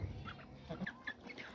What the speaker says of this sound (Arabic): طالما الطيور كده بتاكل وقريبه من الاكل والميه